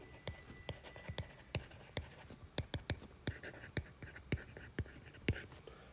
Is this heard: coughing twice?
no